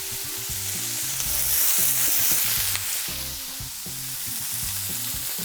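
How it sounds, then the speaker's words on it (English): Beef sizzles and fries in a smoking hot pan, a steady close crackle and hiss with stirring sounds, no voices. "Now you see it's smoking hot. Meat in."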